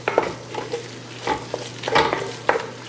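A roux cooks in a pot for crawfish and crab stew. A spoon scrapes and stirs in uneven strokes over a soft sizzle, and a low steady hum runs underneath.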